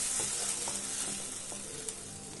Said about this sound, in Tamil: அரைச்ச தக்காளி பியூரியை வந்து உள்ளே சேர்த்தாச்சு. இது நல்லா கொதிக்கணும்.